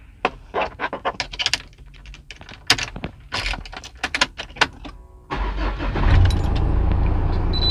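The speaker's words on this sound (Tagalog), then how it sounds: "So, binuksan natin yung makina." A car engine cranks and catches after a run of sharp clicks and taps up close. It then settles into a steady, loud idle hum that fills the rest of the clip.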